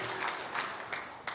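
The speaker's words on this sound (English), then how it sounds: "A limp bit of applause is not enough." Sparse, limp applause from a graduation ceremony audience at Victoria University, a few scattered claps spread thinly over a quiet hall, faint and distant.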